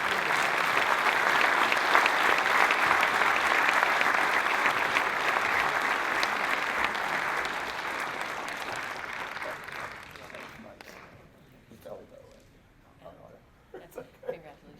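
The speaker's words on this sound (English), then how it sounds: "Please, a big round of applause for Aldo Buff Dinelli." A hall of fame sports ceremony audience applauds in a hall, with dense, loud sustained clapping for about ten seconds that then thins and fades, leaving a few scattered claps and murmurs.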